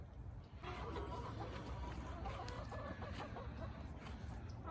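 Chickens cluck softly nearby, a few faint clucks over a quiet outdoor background near a house under renovation.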